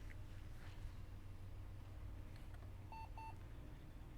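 A Compaq Portable III computer gives two short, clear electronic beeps in quick succession while booting, heard over a steady low fan and motor hum.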